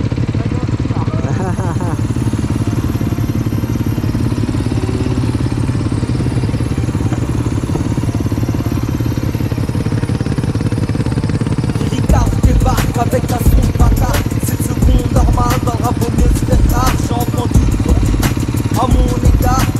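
Motorcycle ride on a Yamaha R, Beta 350 RR and GSX 1000, a steady engine drone throughout with rattling and clatter picking up in the second half, loud and close under occasional talk.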